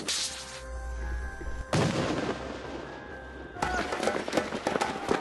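AK-47 assault rifle and rocket-propelled grenade fire in a military scene, heavy booming blasts and sharp cracks in abrupt bursts, with a sustained loud roar and a tonal whine between them.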